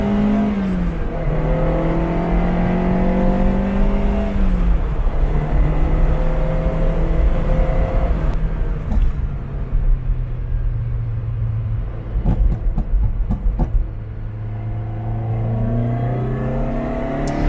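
A Ferrari 308 on a test drive: the engine drones steadily from inside the car, with its pitch rising and falling as it accelerates and eases off, and a few knocks and rattles along the way.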